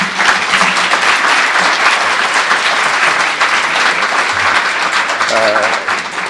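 A room full of people claps steadily and loudly to welcome Judge Nelson Wolff, a dense, even wash of applause that holds throughout and thins slightly near the end, with a few voices mixed in.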